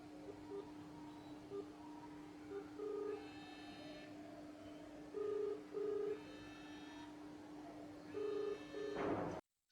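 A VoLTE phone call is placed from the default dialer on a Yu Yureka handset: faint key tones and a steady tone give way to repeating paired ringback pulses, quiet and close, before cutting off abruptly.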